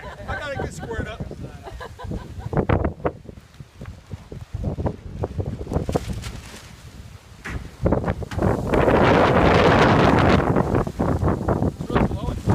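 Strong gusts of wind buffet the microphone outdoors during hide tanning work, rumbling in uneven bursts that swell loudest toward the end, with a voice speaking intermittently over it.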